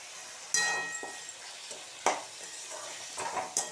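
Tomato sevai masala being sautéed with rock salt, a few distinct scraping stirs of a spoon in a pan over a soft sizzle, close and fairly quiet.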